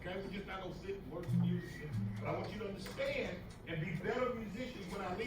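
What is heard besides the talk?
None of the usual background noises is heard.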